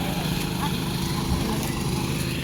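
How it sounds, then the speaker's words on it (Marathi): A machine churns mud in a flooded rice paddy during traditional transplanting in Konkan, giving a steady, dense engine drone with no break. "एका साईडला मशीनने चिखल होत आहे."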